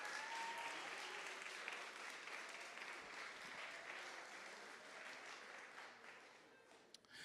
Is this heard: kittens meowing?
no